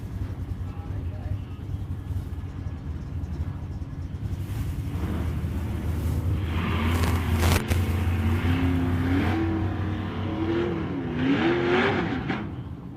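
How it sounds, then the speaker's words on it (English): At a nostalgia drag strip, a Mustang and a Chevrolet Camaro rev up and launch, engine roar building from a low idle rumble into rising, shifting whines at a moderate distance, with an announcer talking over the noise. "Here we go, Mustang versus Chevrolet Camaro."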